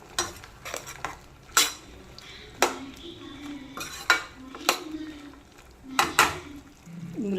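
Liver fry with ginger and garlic is stirred in a pan, with repeated spaced scrapes and clanks of a utensil against the metal over a low sizzle. The knocks come at an uneven rhythm, close and moderately loud.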